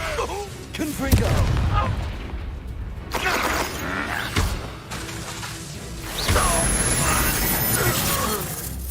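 Hogwarts Legacy Confringo fire spell going off, a burst of blasts, crackling and mechanical clatter among other game effects, with talk over it.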